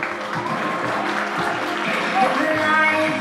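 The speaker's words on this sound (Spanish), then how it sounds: "¡Fuerte los aplausos, por favor!" A crowd at a quinceañera celebration claps in a dense, sustained wash of applause with voices mixed in, growing slightly louder toward the end.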